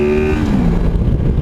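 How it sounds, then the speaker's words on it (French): A Honda Crossrunner motorcycle engine revs hard past 6500 rpm, where its VTEC changes the engine note. The sound is a loud, close, brief roar whose pitch slides downward. "dès qu'on passe les 6500, le moteur change de bruit et ça speed un peu plus"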